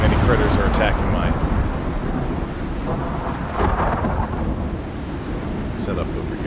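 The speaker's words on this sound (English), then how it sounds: "That wolf gets struck by lightning?" Thunderstorm in a mining survival video game, with a lightning strike and thunder: a loud, sustained rumble and crackle over steady rain, swelling again midway, with a voice briefly audible over it.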